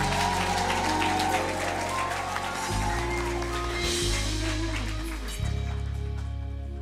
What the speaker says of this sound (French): est-ce que vous pouvez l'applaudir, s'il vous plaît?